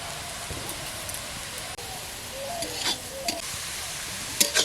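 Grated carrot frying in ghee with cardamom and cinnamon, a continuous soft sizzle with occasional crackles and a few brighter spatters and stirring scrapes toward the end.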